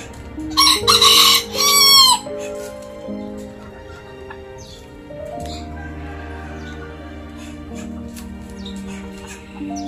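A rooster crows loudly and close by next to a new cage for backyard chickens, a burst of calls at the start, followed by softer clucking and steady farmyard background noise with murmured talk.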